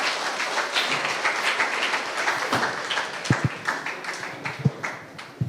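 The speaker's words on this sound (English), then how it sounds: "Give a big round of applause for this." A college event audience claps and applauds in a dense, continuous burst that gradually thins toward the end, with no talk over it.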